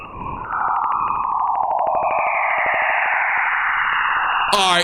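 Radio emission from charged particles moving through Jupiter's magnetic field near its auroral poles, rendered as a steady eerie whooshing hiss with wavering, sweeping tones that swell in after a brief quieter start, with no voices.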